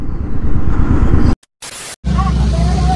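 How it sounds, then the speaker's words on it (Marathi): Road traffic on a route into Konkan, heard from inside a moving vehicle as a loud steady engine and road rumble, cut by abrupt dropouts, with voices talking over it. "त्याच्यामुळे हे ट्रॅफिक होतं."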